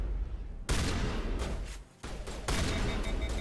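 Rapid gunfire from the Mass Effect video game crackles in quick, dense bursts, loud and close, with a short lull partway before the firing resumes.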